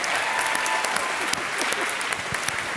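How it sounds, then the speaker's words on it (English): Steady audience applause fills a comedy debate venue after a joke, dense clapping throughout at an even, loud level with a faint murmur of the crowd. "Which is a weird thing to applaud."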